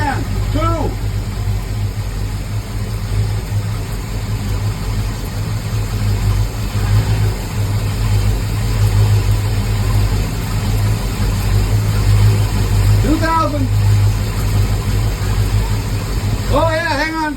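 A 454 Crusader marine engine, fouling plugs, holds a steady 2,000 RPM with a loud, continuous low rumble throughout, while voices speak over it now and then.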